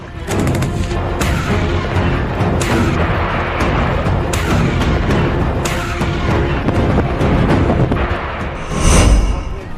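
Artillery shells firing and exploding, a loud, dense barrage of booms and crashing thuds in rapid succession, with a heavier deep blast near the end.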